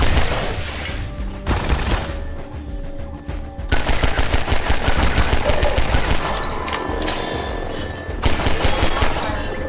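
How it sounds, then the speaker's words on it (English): Sustained automatic gunfire from Half-Life 2 rattles loud and close in rapid bursts, broken by a brief pause before the fire resumes and continues steadily. "Who's in here shooting at me?"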